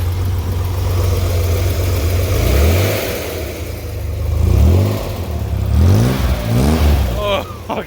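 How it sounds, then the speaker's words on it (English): A 1964 Corvair engine fitted with custom dual exhaust idles with a loud, close low burble, then revs up in several rising throttle blips that fall back to idle. "I wonder how it sounds when I rev this thing up"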